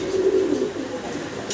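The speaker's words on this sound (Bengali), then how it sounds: "আচ্ছা, দেখে কবুতরগুলো দেখেন, ভালো লাগতেছে।" Pigeons at a Mundian pigeon fair coo in a steady, low, continuous murmur that stays close and moderately loud through the short stretch, with no voices over it.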